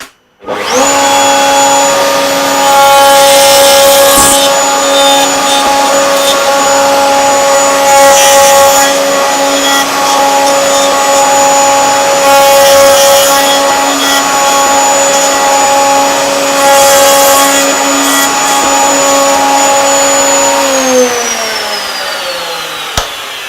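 A loud, steady power tool whine cuts a dovetail joint in wood, humming at a constant pitch for about twenty seconds before winding down at the end, close and with no talk.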